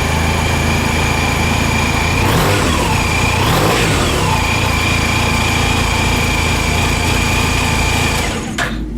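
A 2013 Honda Silver Wing ABS motorcycle runs loudly and close, its engine humming steadily with a couple of brief revs in the middle before cutting off near the end; no talking.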